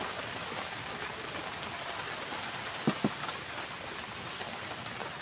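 Steady rain falls throughout, a dense even hiss with two brief louder knocks near the middle.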